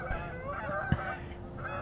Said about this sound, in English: look at all these birds heading across. They are so loud too.